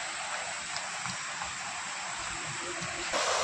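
Steady splashing rush of the Sawatsada waterfall in Chiplun, flowing lightly in monsoon greenery, fairly soft and continuous with faint droplet patter and a brief louder swell at the end.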